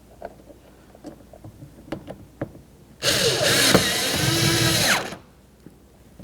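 A screwdriver drives a Phillips head screw into the center of the grab handle on a 2003-2007 Honda Accord front door, one loud whirring burst of about two seconds after faint handling clicks.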